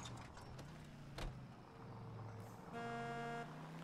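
A car horn sounds in the driving game L.A. Noire, with a sustained honk near the end standing out over a steady in-game engine and road rumble, preceded by fainter tonal blasts.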